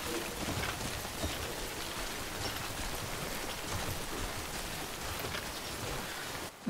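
Rain falls in the video game Death Stranding: a steady, dense hiss of downpour that carries on without a break and with no voices over it.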